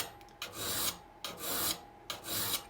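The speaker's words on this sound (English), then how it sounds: "A little easier for me with a triangular file." A triangular file rasping across the teeth of a crosscut saw during sharpening, three long even strokes with brief pauses between them, close and clear with no talk.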